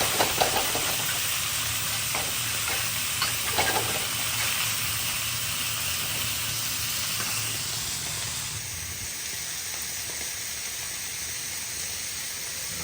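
Pepper steak sizzling and frying in a hot pan, a steady broadband hiss with a few scraping stir sounds early on, continuing evenly throughout with no talk.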